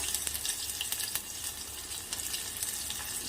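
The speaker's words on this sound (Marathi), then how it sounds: "छोटावाला एक पूर्ण कांदा घ्यायचा आहे याला छान असं परतून घ्यायचं आहे" Finely chopped onion sautés with mustard seeds and cumin in a pan over medium heat, giving a quiet, even sizzle with faint crackling and a few soft ticks.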